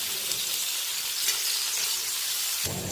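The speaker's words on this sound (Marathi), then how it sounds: "तेलामध्ये लगेचच हे वाफून घेतलेले कारले टाकायचे. गॅसची आच मोठी ठेवायची आणि परतत राहायचं." Steamed bitter gourd tossed into hot oil over a high flame gives a loud, steady, close sizzle that crackles throughout and shifts briefly near the end as the pieces are stirred.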